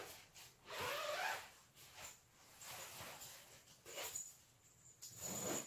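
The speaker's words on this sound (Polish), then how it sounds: "Z możliwością rozpięcia całkowitą. Mogę rozpiąć na raz," A zipper on a mummy-style sleeping bag is pulled open in several short, quiet bursts of rasping, close up and faint, with pauses between the pulls.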